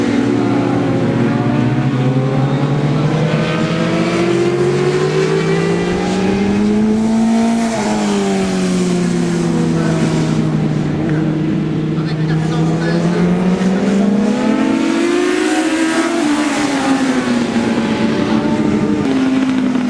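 Vintage motorcycles in a 4-hour endurance race at Carole circuit, engines droning loudly and rising and falling in pitch as they pass, with a commentator talking over them.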